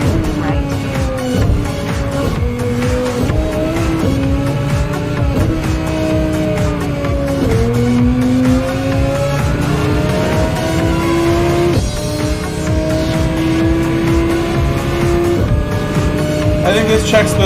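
Race car engine in Gran Turismo on a Nürburgring online lobby, a steady loud drone rising and falling through repeated upshifts with tire noise beneath, nearly alone.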